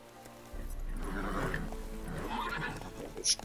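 Roach, Geralt's horse in The Witcher 3, lets out a drawn-out neigh with a snorting, whinnying quality, close and moderately loud, ending with a brief higher squeal.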